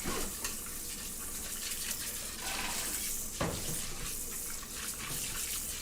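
Tap water splashing steadily while a container is rinsed out in a home kitchen during cake baking, a continuous close hiss with one brief clunk partway through.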